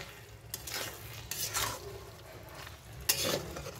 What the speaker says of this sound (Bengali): একটু নাড়িয়ে দাও।